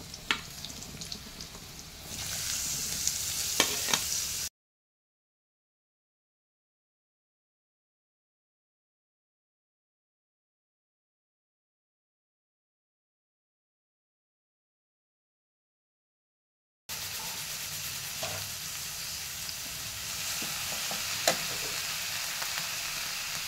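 Sliced radish with a little turmeric sizzles and is stirred in a pan. The soft, steady frying hiss carries scraping of the utensil, with a long silent gap partway through.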